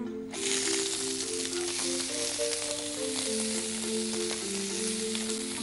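Loud, continuous sizzling of onions frying in a hot pan, with a soft melodic tune playing underneath.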